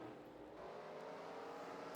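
Faint, steady race car engine drone from the NASCAR Racing 2003 video game, an even distant whine lasting the whole moment with no talking.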